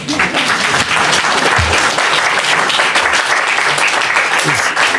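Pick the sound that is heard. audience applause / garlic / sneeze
audience applause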